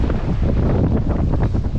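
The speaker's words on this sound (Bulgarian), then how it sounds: "Много духа обаче." Strong wind roars steadily across the microphone by the sea on Thasos island, a loud continuous buffeting rush with no voices.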